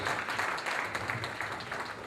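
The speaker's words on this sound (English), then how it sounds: "Another round of applause" Audience applause at a gala night event, a short burst of continuous crowd clapping, moderately loud and even, with no voices over it.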